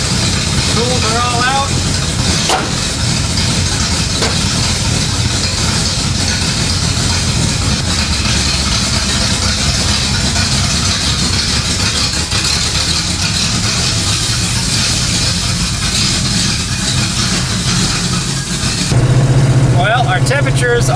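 Pontiac LeMans Sport engine running steadily with a recored OEM radiator, a continuous loud low rumble throughout, with a brief change near the end.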